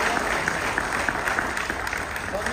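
Audience clapping at a Sunday program, a steady mid-level patter of hands that holds evenly throughout, with a faint hum underneath.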